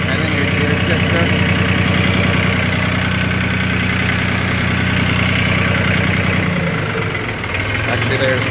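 A Lenar 274-1 tractor engine idles steadily and loud, its low, even rumble constant throughout, with the idle dipping slightly near the end.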